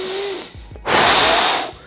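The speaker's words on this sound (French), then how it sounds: "Là, l'idée, c'est d'avoir une respiration normale." Deliberate breathing shown during a boxing cardio lesson: a few short sniffs through the nose, then one long, loud, broad exhalation lasting about a second, close to the mic with no talking.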